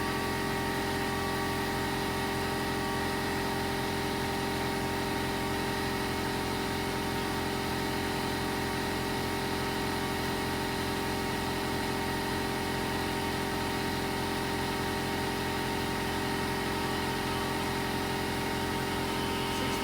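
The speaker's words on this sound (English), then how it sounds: "now we're going to go ahead and turn off our air compressor because we don't need that any longer" Air compressor running during a well priming job, a steady, faint mechanical hum with constant hiss and no change over the whole stretch.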